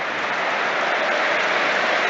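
A stadium crowd at Tottenham applauding during a Premier League match against Leicester City, a dense, loud, continuous wash of clapping filling the whole stretch; no talking.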